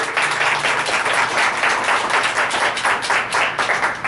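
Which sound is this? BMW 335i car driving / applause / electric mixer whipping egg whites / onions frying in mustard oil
applause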